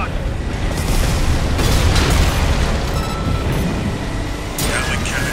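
A heavy rumbling explosion as Gatling cannons are destroyed during a mission in the Armored Core 6 video game, sustained booming roar with bursts and debris over several seconds, loud and close.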